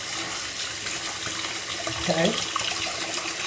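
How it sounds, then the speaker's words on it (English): A tap runs steadily into a sink as makeup brushes are rinsed under the stream, a close, constant splashing hiss with brief clinks and a short spoken word. "And then I give it a good rinse right under the water."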